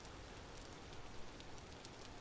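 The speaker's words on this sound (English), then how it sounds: "In this place, it seems to rain a lot here." Steady rain in the video game Vintage Story, a soft, even hiss of falling drops with faint patters on surfaces, continuous and fairly quiet with no talk.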